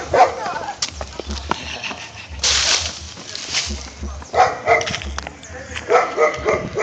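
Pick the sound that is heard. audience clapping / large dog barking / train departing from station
large dog barking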